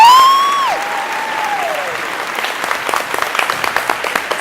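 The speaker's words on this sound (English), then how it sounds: "Can I get a hand clap?" Studio audience clapping at a Bronx community TV interview taping, a dense burst of many hands right after a sliding tonal sweep, staying steady and moderately loud without talk.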